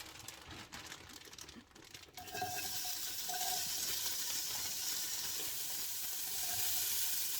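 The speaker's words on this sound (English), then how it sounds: "I'm gonna mix it up a little bit so I can get some of those shallots from the bottom." Onions and shallots sizzle steadily in a gumbo pot, with soft scraping stir sounds at first before the frying hiss settles in loud and continuous.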